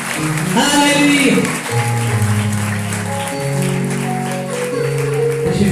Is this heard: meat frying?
no